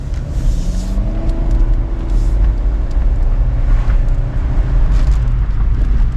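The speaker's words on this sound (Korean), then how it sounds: "여기 더 빨리 달려볼까요?" Engine of a Kia All New K3 Prestige sedan on a test drive, a loud steady drone with rising tones as it accelerates, heard from inside the cabin over continuous road rumble.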